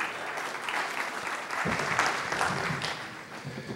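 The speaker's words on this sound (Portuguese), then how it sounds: "uma salva de palmas para recebermos o pastor Diego Barreto" Audience at a church web forum event applauding to welcome a speaker: a dense, sustained clapping that swells slightly midway and carries on for several seconds, a voice faintly audible underneath.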